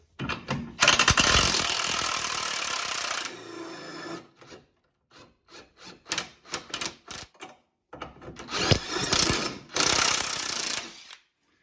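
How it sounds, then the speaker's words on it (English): A ratchet with a 17mm socket works the lower rear shock absorber bolt loose on a 2007-2012 Acura RDX. Loud bursts of rapid ratcheting clicks alternate with short runs of separate clicks, close by, with no talking. "Remove the lower shock absorber bolt using a 17mm socket."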